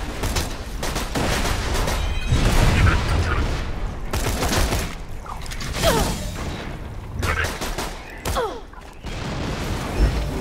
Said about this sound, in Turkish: Bomba attı.